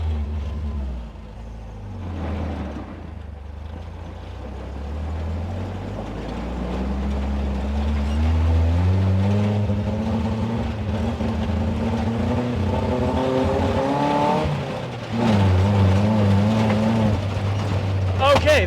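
A heavy Toyota rock crawler truck engine idles roughly, then revs up and climbs steadily in pitch as it drives, with mechanical rattles and a brief drop near the end.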